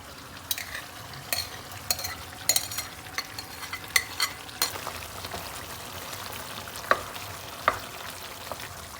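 Onions fry quietly in a pan for an Italian-style chicken curry, a soft steady sizzle under repeated scraping strokes and a few sharp clinks of the spoon against the pan.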